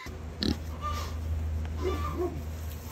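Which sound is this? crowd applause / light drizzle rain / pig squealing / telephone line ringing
pig squealing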